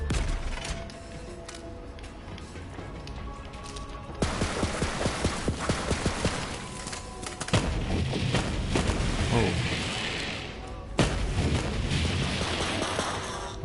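Gunfire in the Borderlands 3 video game pops in a loud, busy stream of shots and blasts mixed with game effects, with bursts becoming denser partway through.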